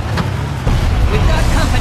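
Vehicle engine rumble while driving in the Far Cry video game, set in a swamp, a steady loud low drone that swells partway through, with no talk over it.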